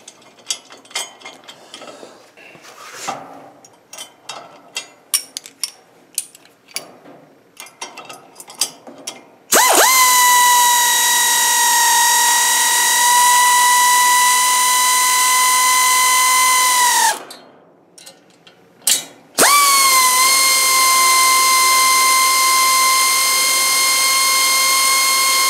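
Lock nuts being tightened with a 13 mm wrench or socket while assembling a YUTRAX TX158 ATV utility trailer. Rapid ratchet clicks and scattered taps come first, followed by two long, loud, steady powered driver whirs separated by a brief pause.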